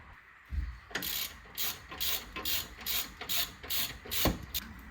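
Ratchet tightening a track rod end on a 2.2 Skyactiv diesel Mazda 6, a steady run of close, dry clicking bursts in a regular rhythm with a brief thud near the end.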